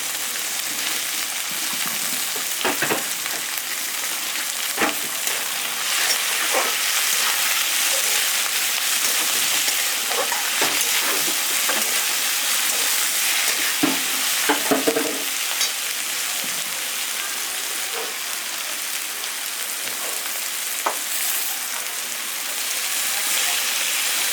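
Chopped green chillies fry in hot oil with spices, producing a loud, dense, close-up sizzle that never lets up, with occasional stirring scrapes and knocks scattered through it and no talking.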